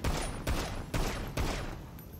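Heavy gunfire during a video game bank robbery, loud close bursts of rapid shots in three or four waves, each slamming in hard and trailing off into a dense rumble.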